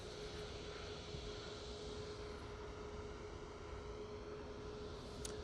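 Airliner departing Manchester Airport for Dubai, a broad steady roar of jet engine noise with a faint constant tone, distant and even throughout with no talking.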